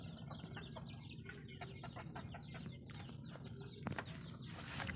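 Chickens cluck in repeated short bursts at chicken coops in a rural provincial yard, fairly close and continuous, with a faint background hum and an occasional louder squawk near the end.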